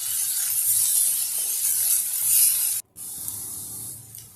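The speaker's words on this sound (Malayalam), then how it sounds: "ഒരു പാൻ അടുപ്പിൽ വെച്ച് അതിലേക്ക് കോക്കനട്ട് ഓയിൽ ഒഴിച്ച് 2 സവാള ചെറുതായി അരിഞ്ഞിട്ട് എരിക്ക് ആവശ്യമായ പച്ചമുളക് എന്നിവ ചേർത്ത് വഴറ്റുക" Chopped onions and green chillies sizzle in coconut oil in a hot pan, making a steady, close, bright hiss that cuts out for a split second before the frying resumes.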